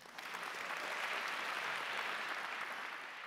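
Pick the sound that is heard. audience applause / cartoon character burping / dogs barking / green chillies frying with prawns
audience applause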